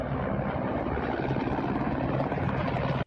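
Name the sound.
Russian military helicopters flying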